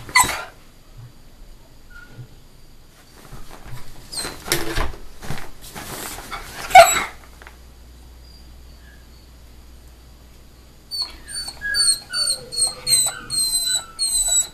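A dog gives short whines and yelps, first scattered and faint, then a run of high whimpering cries near the end.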